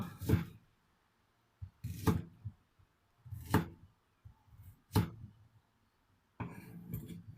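Shallots and shrimp paste pounded in a stone mortar with a pestle, five heavy, evenly spaced thuds about a second and a half apart, close and distinct, with no voices.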